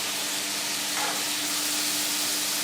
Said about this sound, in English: you can hear that beautiful frying